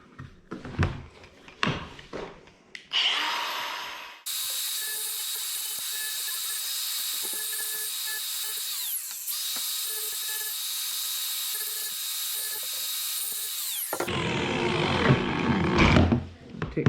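Rotary tool cutting small notches into a metal Fancy Feast cat food can, a loud, steady high-pitched grinding whine lasting about ten seconds, preceded and followed by clattering handling noises and a brief buzzing burst.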